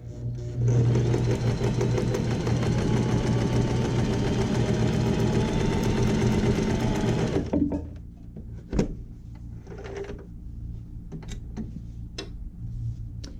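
A domestic sewing machine, just cleaned and lubricated, stitches in a steady, fast mechanical whir for about seven seconds, then stops, leaving a few scattered clicks and handling noises close by.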